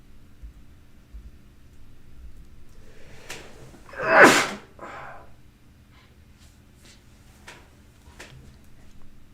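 A single sharp sneeze bursts out close by in an otherwise quiet room, with a few soft clicks and rustles before and after.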